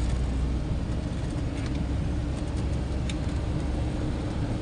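A car drives toward Gangotri Dham on a mountain road, heard from inside as a steady, loud engine and road rumble that holds constant throughout, with no talking.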